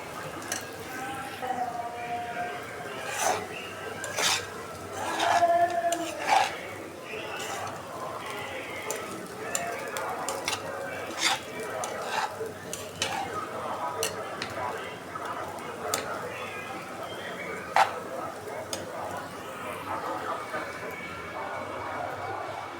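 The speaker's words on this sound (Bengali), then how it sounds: "এই চালটা ভাইজা নিতেছি" Dry rice grains rattle and scrape in a pan as they are fried and stirred, repeated sharp scraping strokes over a faint sizzle, with talking throughout.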